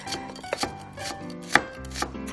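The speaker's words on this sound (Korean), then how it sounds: "채 썰어서 준비해 주시고." Kitchen knife slicing an onion into thin julienne strips for a bean sprout pancake, a few sharp cuts on a board mixed with a sustained clattering background, no speech.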